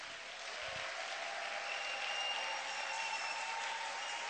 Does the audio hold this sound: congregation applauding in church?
yes